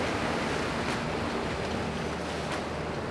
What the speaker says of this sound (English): The waves are definitely crashing today.